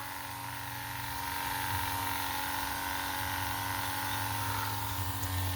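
A homemade DIY farm sprayer runs and sprays with a steady, droning motor hum and a constant hiss of spray, close and unbroken, with no talk.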